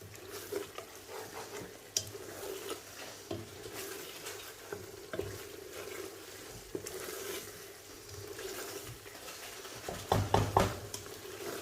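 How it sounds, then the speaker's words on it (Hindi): Soya chunks sizzle quietly in oil in a pan while a spoon stirs and scrapes now and then, with a louder clatter of stirring near the end. "इसको भी अच्छे से भून देंगे"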